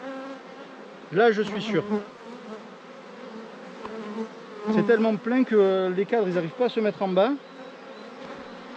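Honeybees buzz around an opened hive while frames are handled, with a soft continuous hum rising into louder, wavering swells as the colony stirs; someone speaks French over the buzzing.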